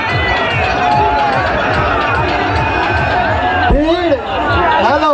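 Dense crowd jostling near a DJ sound system at a DJ competition in Azamgarh, Uttar Pradesh, a loud continuous babble of voices and shouts close by, with a man calling out over the noise.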